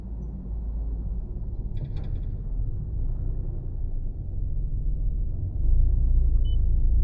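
A car engine idles and rumbles steadily during a driving lesson, a low continuous drone with a brief click near the start and a slight surge in level toward the end, no talking over it.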